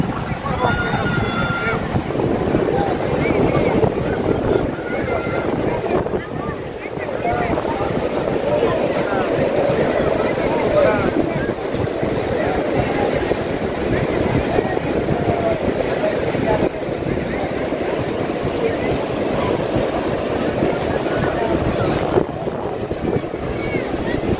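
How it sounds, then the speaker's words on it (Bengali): Sea waves roll onto Cox's Bazar beach with a continuous surging wash and strong wind buffeting the microphone, loud and close throughout, while people talk over the surf. "কত সুন্দর ঢেউ আসতেছে।"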